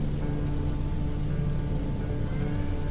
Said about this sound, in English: Okay, it's raining again.